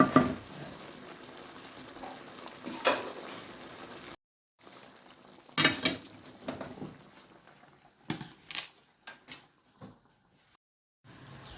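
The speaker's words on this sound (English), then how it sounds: "then cover it and then let it just simmer" Coconut cream dish in a pot taken off the fire, covered and left to simmer, giving quiet bubbling and sizzling with a few sharper clatters, interrupted by brief dropouts.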